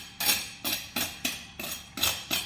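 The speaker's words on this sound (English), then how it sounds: "Let's do the old scrape test." A blunt knife scrapes across crispy oven-roasted pork belly crackling, seven loud rasping strokes in a steady rhythm, close up and crunchy, with brief pauses between.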